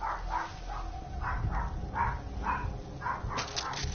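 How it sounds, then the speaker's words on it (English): A dog barks repeatedly in a steady rhythm, about eight or nine sharp barks spaced half a second apart over a low ambient rumble, at moderate distance. "That'll be our dog."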